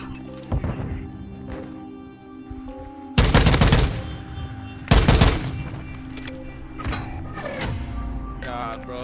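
Gunfire in Call of Duty Modern Warfare, including bursts from a shotgun against a riot-shield player, sharp loud volleys with quieter shots between and game sounds underneath.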